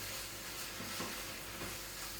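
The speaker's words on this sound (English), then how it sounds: "You just fry everything together." Carrot, peas and other vegetables for paella frying in a pan, a steady faint sizzle with a few soft stirring scrapes, close and alone.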